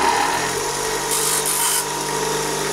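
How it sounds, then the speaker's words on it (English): Cut steel Allen bolts are ground to a point on a grinding wheel, producing a continuous loud whirring rasp with a brief harsher scraping surge partway through, and no talk. "now I'm going to just put a pointed end on them on the grinding wheel"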